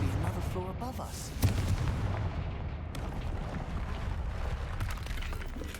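A Confringo spell fires in Hogwarts Legacy with a sharp blast and a rumbling, crackling burst that lingers. Game music and effects play around it, and a voice speaks briefly.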